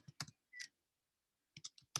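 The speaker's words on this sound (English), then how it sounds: "I am typing the name of our next artist" Short clusters of crisp computer keyboard keystrokes, quiet and close, come in two bursts separated by a brief pause, with no voices.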